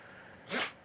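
A single short sneeze bursts out partway through, brief and fairly close, against a quiet room background with nothing else before or after.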